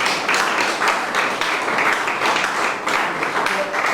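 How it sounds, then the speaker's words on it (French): An audience in a lecture hall applauds warmly for a professor, a dense, steady patter of many hands clapping at close range for the full stretch, with faint voices mixed underneath. "Est-ce qu'on peut applaudir le professeur Jean de Dieu Minengu chaleureusement"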